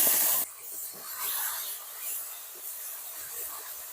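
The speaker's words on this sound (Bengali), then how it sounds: "এবার ওর মধ্যে দিয়ে দেবো টমেটো বাটা।" Tomato paste dropped into hot oil with fried cardamom and cinnamon, a sudden loud hiss at the start that drops to a softer, uneven spitting sizzle, close and alone.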